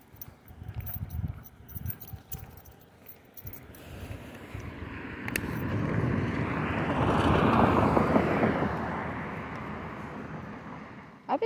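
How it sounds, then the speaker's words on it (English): A propeller or jet airplane passes overhead outdoors on a neighborhood walk, a broad engine roar swelling over several seconds to a peak and then fading, after some earlier footsteps and handling noise. "Oh, another plane?"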